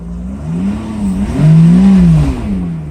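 Mercedes S600 engine with repaired throttles revving lightly as the pedal is pressed, two short rises in pitch from a steady idle, close and loud with no talk.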